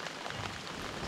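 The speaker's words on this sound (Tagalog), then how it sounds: "Kaya lang, puro ulan na." Rain pours steadily on the mountain road at Bessang Pass in Ilocos Sur, a soft, even hiss of falling drops with no break.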